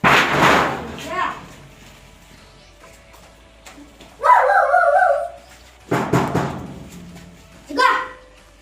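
A dog barks in a few short, spaced bursts, fairly near, while people, including a child, talk around it in a village setting.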